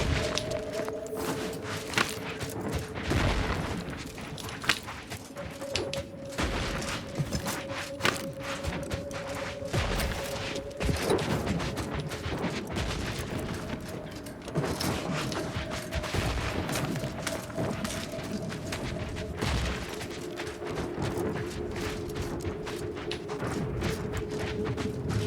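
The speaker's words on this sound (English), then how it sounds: "Mortar fire! Move!" Mortar fire in the video game The Outer Worlds 2: booming impacts and scattered gunfire crackle across a loud, busy battle soundscape, heavy thumps recurring over a steady droning tone, with no voices.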